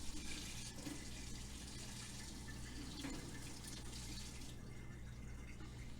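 Hot water running steadily from a tap into a kitchen container for a coffee recipe, a continuous close rushing stream for several seconds with no speech.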